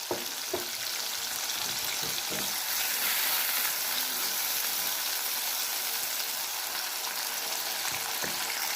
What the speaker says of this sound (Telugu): అదే నూనెలోని చూడండి, ఉల్లిపాయలు, దుంపలు వేసుకొని వేయించుకోవాలి